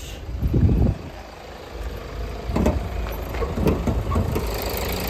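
A Murang crossover 4x4 with a 2.0-litre diesel engine idles steadily at close range, a low continuous rumble with a few louder swells and clatters partway through.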